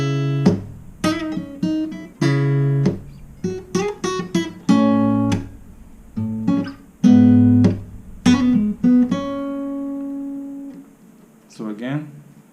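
A guitar plays the chord progression and little licks from a song, with paired two-string chords struck together, short bursts and held notes with pauses between, close and loud, without talk.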